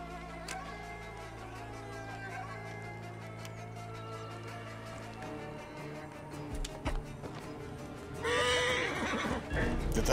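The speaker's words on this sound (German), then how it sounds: "Ich brauche jetzt ein Pferd." A horse whinnies loudly near the end in Assassin's Creed Origins, a harsh, rising neigh following a stretch of low ambient music and scattered hoof sounds.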